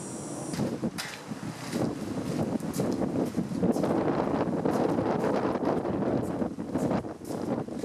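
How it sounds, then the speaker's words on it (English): Gusty outdoor wind buffets the microphone in a continuous rough rumble, rising and falling slightly throughout. "it's just too windy today. The wind is blowing my weld gas all over the place"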